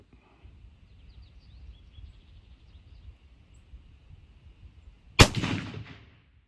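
A single .308 rifle shot fired at long range cracks loudly and sharply, then rolls away in a short decaying echo after several seconds of quiet outdoor ambience with faint bird calls.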